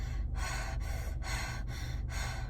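A woman imitates rapid mouth breathing, a run of quick, loud, breathy gasps and pants repeated in a steady rhythm close to the microphone.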